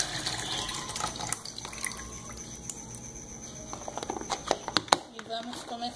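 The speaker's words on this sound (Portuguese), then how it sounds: "como esse aqui já está amolecido, a gente vai escorrer essa água" Soaking water drains off softened garlic cloves, a splashy trickling pour with scattered drips and clinks of a container, building to a few sharper splashes near the end while a voice talks over it.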